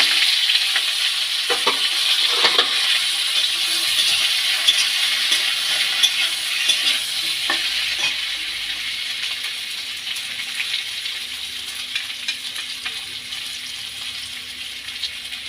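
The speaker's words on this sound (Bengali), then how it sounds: "তেল গরম হয়ে গেছে, সিদ্ধ করা আলুগুলো তেলের ওপরে" Boiled potatoes fry in hot oil for aloo chop, giving a continuous bright sizzle and a few early stirring scrapes. The hiss stays close and steady, then eases off slightly toward the end.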